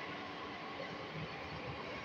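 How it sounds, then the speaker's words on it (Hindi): A Delhi metro train pulls away from a station platform, giving a steady, loud rumble of rolling cars with a broad mechanical wash throughout and no voices. "अब ये जा रही है इधर से, चल दी मेट्रो चली गई"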